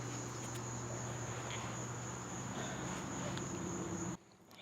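Yellow jacket wasps buzz faintly at an underground nest in a ground hole, a steady insect drone with a thin high whine running through the outdoor air, with no voices.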